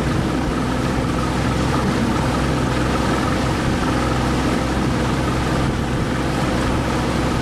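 A jet ski engine with a malfunction, on a lake, drones steadily and continuously, a dense mechanical roar with no voices.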